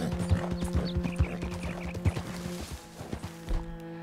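Horse hooves clip-clop at a walking pace in the Red Dead Redemption 2 video game, an even rhythm of thuds over a soft, steady musical drone, fading near the end.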